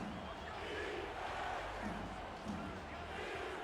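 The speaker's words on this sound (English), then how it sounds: "the Houston crowd, they're still on their feet. They're still screaming defense" Home crowd in a Houston football stadium roars steadily on its feet, a dense, distant wall of screaming and chanting for defense, with a commentator's voice faintly underneath.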